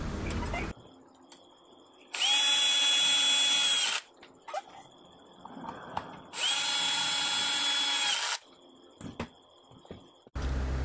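A power tool runs in two long bursts of several seconds each, tightening three nuts while a 7-inch circular saw armature is reassembled, with quieter handling clatter between the bursts.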